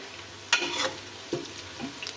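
Whole spices such as cloves, black cardamom, cumin, curry leaves and cinnamon frying in a little desi ghee in a pot, with a close soft sizzle and a few brief stirring scrapes, alone without talk.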